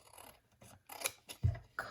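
Big scissors cut along a paper border in a few crisp, close snips with brief rustling of paper between them.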